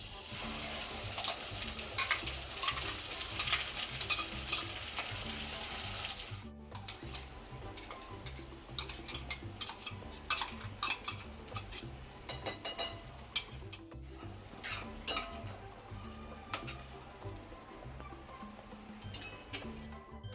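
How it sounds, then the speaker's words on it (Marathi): Masala paste sautéing in oil and butter for butter chicken, a steady close sizzle and fry with light stirring and spoon ticks running throughout, fairly loud and with no talking. "थोडंसं मी तेल सुटेपर्यंत परतून घेते."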